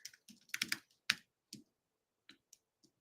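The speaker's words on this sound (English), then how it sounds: "I'm going to write a test comment as well." Typing a comment on a computer keyboard, a quiet close sequence of sharp key clicks in irregular bursts followed by a few sparse taps, with no talk.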